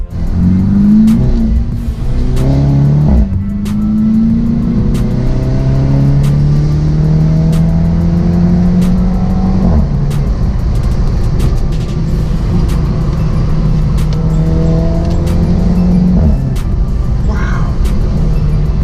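A Mini Cooper S Convertible with a Remus catback exhaust, engine loud and close as it revs and accelerates through rising gears, a steady droning exhaust note throughout.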